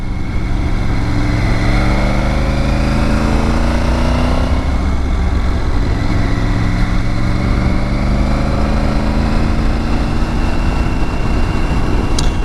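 A Triumph Tiger 900 Rally Pro motorcycle cruises along on the road, its engine holding a steady, loud drone beneath constant rushing wind noise, with no talking.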